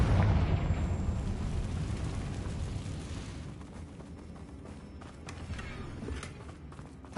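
A Confringo fire spell explodes in Hogwarts Legacy, a loud rumbling blast that fades over a few seconds into scattered crackles and thuds, with no speech.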